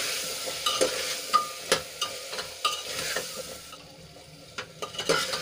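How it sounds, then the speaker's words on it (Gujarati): Spices, garam masala powder and salt, are stirred and mixed in a pan for a Gujarati thali dish. A close spoon scrapes and clinks in an uneven rhythm against a light frying sizzle, with no talking. "તો બધા મસાલાને આપણે સરસ રીતે મિક્સ કરી લઈશું."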